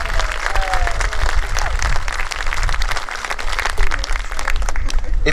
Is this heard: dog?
no